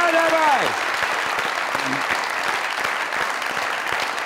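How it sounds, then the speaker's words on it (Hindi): A studio audience on a Pakistani comedy talk show gives a standing ovation, sustained, dense clapping at an even level after a brief musical sting at the start. "अ स्टैंडिंग ओवेशन ढेर सारी तालियों के साथ"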